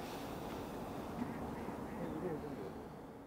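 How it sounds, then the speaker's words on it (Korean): A flock of migratory waterbirds gathered on a riverbank keeps up a dense, steady mix of quacking and honking calls over running water, with voices talking faintly underneath. "마침 철새떼가 강가에 모여 있네요"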